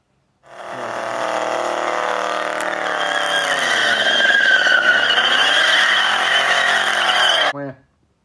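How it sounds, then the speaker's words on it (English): A Holden HZ GTS does a long tyre-squealing burnout at a car show: a loud, sustained screech of spinning rubber over a revving engine for about seven seconds, then a sudden stop. "Did a big fat burnout, which you'll probably see."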